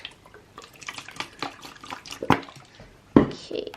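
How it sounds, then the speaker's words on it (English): Borax activator poured into a slime mixture, a close liquid trickle with small drips and splashes and a couple of louder sloshes near the end, with no talking. "Now I'm going to add the activator, which I'm just going to use borax."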